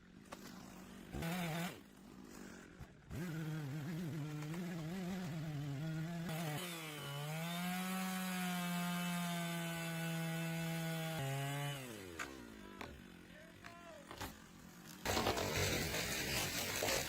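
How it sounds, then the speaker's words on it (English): A STIHL MS 881 chainsaw cutting a large tree, the engine revving up and then holding a loud sustained whine through the cut before dropping back to idle, loud and close. "Paired with the STIHL MS 881, it creates a perfect felling gap."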